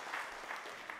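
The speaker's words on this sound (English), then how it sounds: "can you just give a clap offering to the choir that is up here this morning?" A church congregation clapping for the morning choir at a Father's Sunday service, a brief, even burst of crowd applause.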